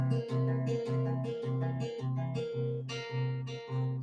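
Fingerpicked guitar notes repeat in an even, rolling eighth-note triplet rhythm, a steady low note pulsing beneath brighter upper notes, clear and close with no voices.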